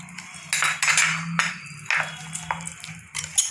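A spoon stirs paneer pakora batter with coriander and poha crumbs in a bowl, giving several light clinks and scrapes against the rim over a steady low hum.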